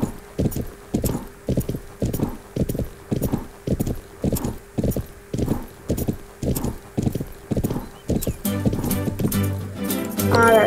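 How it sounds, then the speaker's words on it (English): A horse ridden over jumps on an outdoor course makes steady, close clip-clopping hooves in a regular rhythm. Heavy breathing sounds with each stride, and a voice joins near the end. "Hear the poor horse breathing so hard."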